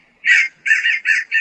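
A cartoon crow caws four times in quick succession. The calls are loud, harsh and nasal, with short gaps between them, against a silent background.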